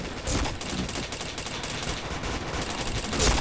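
Rapid gunfire in a shooter video game crackles continuously, with bursts of automatic fire and louder single shots near the start and end, close and fairly quiet overall.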